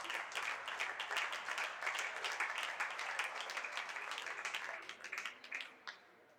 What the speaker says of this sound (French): Donc des applaudissements aussi.